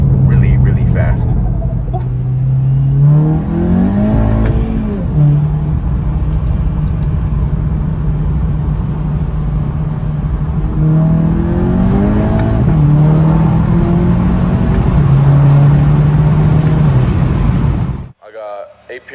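A Volkswagen GTI with APR Stage 2 tuning, about 340 horsepower and a catless downpipe, accelerates hard from inside the cabin, its engine note climbing through repeated gear changes, with a voice talking over it.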